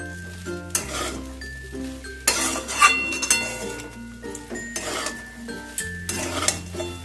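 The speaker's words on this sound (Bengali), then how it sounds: "দিয়ে সব কিছু দিয়ে ভালো করে মিশিয়ে নেবো" Spoon stirring flattened rice pulao with sugar in a pan on a medium gas flame, giving repeated scraping clinks and metallic knocks in an irregular rhythm with a faint sizzle underneath, close and moderately loud, no talking.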